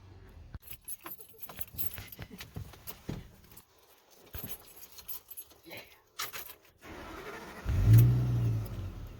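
A big truck drives along during a driving lesson, its engine a low rumble under small rattles and clinks, then it swells into a louder revving surge near the end.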